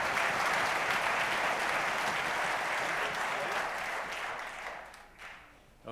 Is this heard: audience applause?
yes